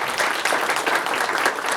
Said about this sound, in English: Let's give Dennis a round of applause.